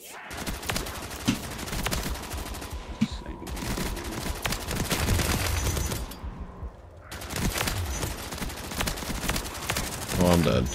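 Rapid gunfire from a weapon in Black Ops 3 modded zombies mode, dense sustained bursts with brief pauses, loud and continuous under faint talk.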